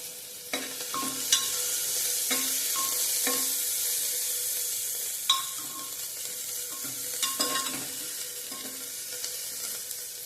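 Onion fries for dal tadka over a high gas flame, a soft continuous sizzle broken by a few sharp clinks of a spoon stirring in the pot, with no voices.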